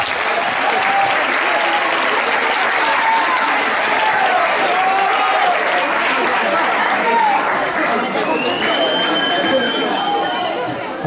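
Audience applauds continuously and loudly at a school award ceremony for Sant Antoni, dense clapping filling the room with some chatter mixed in.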